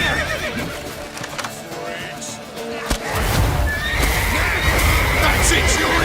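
A horse whinnies loudly and close in the video game The Witcher 3, among hoofbeats and busy game noise, with a rising rush of wind or fire in the second half and shouted voices.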